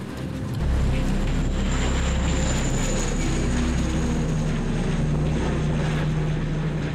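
Firefighting aircraft flying low over a wildfire in an area of low vegetation, a steady loud engine and propeller drone that holds without a break for several seconds.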